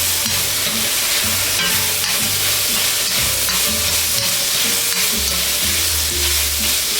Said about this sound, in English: let this meat stew for a second to, again, further the breakdown of the meat